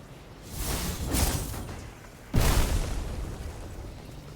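Bombs detonate in the video game Dungeons of Hinterberg: two deep, rumbling blasts, the second sharper and louder, each trailing into a rushing, roaring decay.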